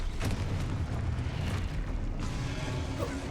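Confringo spell blasts in Hogwarts Legacy, a dense continuous rumbling roar of fiery explosions filling the whole stretch at a loud, even level.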